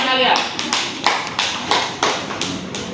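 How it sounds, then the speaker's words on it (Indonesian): Students in a classroom applaud a classmate with a short burst of loose, uneven clapping, several sharper claps standing out over steady patter. "tepuk tangan buat teman kalian"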